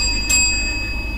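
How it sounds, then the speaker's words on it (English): During a university debate semi-final, a timer bell sounds, with a fresh sharp strike landing on a tone that is already ringing. The bright metallic note then lingers over steady room noise. "At the 7th minute, the bell will ring twice."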